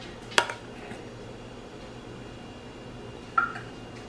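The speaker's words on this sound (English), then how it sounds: "So now I'm just gonna begin to spoon the filling" Cinnamon cheesecake filling being spooned into place, with two light, brief clinks of a spoon against the dish about three seconds apart over a quiet background.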